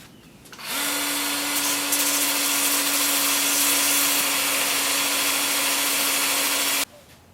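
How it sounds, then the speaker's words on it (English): A power sander works a small area of an English laurel wood bowl on a workbench, giving a steady, loud whine with a sharp start and stop and no voices. "I'll just go sand up this little 2-inch area over here on the workbench."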